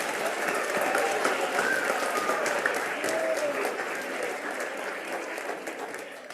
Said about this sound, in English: Let's give all of our nominees a round of applause